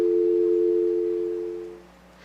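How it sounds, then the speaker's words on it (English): A steady payphone dial tone hums loud and clear, holding evenly before abruptly stopping after about two seconds. "you'll hear a dial tone"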